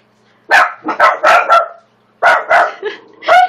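A dog barks repeatedly up close in two quick volleys of sharp, loud barks with a short pause between them.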